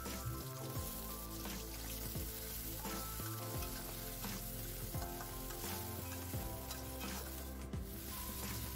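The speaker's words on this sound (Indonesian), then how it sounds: "Kita akan tumis bumbunya ini sampai benar-benar harum dan matang." Spice paste for sambal sautéing in hot oil, a steady close sizzle and crackle running throughout with occasional stirring scrapes.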